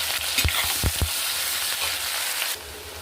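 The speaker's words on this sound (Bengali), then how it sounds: "পেঁয়াজ আর লঙ্কা দিয়ে এটাকে আমি একটু ভেজে নেব" Dry whole red chillies, cumin seeds and chopped onion fry in hot oil in a pan, giving a steady close sizzle with a few sharp crackles and stirring knocks early on, alone without voices.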